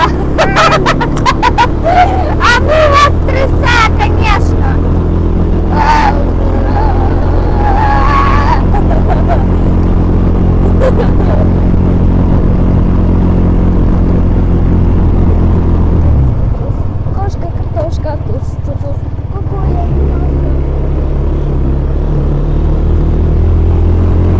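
A quad bike (ATV) engine runs loud and close while riding, a heavy continuous rumble that shifts pitch with throttle changes and briefly dips near the end, with voices mixed in.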